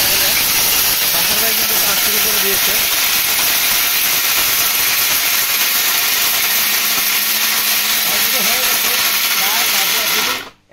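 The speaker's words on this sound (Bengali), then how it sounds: "আর জিরাটা করে দেখাবো আমরা আমাদের এই নতুন এই ব্লেন্ডারটা দিয়ে।" A new 2022 Disnie blender mixer grinder runs hard on turmeric, a loud continuous high-pitched whir and grind that holds steady, then cuts off abruptly at the end.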